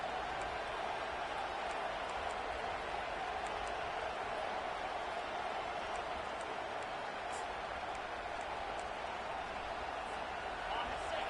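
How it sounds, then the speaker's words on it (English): Steady roar of a home crowd in a college football video game, Michigan versus Alabama, swelling on third down as the defense tries to get off the field, a continuous dense wash of noise heard beneath commentary talk. "Here comes this home crowd as the defense tries to get off the field on third down."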